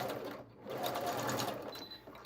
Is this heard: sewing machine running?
yes